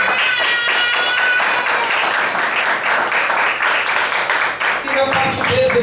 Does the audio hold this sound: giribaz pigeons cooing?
no